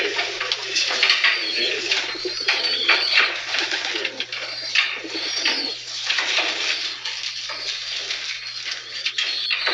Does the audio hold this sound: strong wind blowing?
no